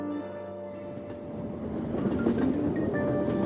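A train runs steadily in Persona 5 Royal, with a continuous low rumble and rhythmic rolling clatter that grows slightly louder, close and alone, no voices over it.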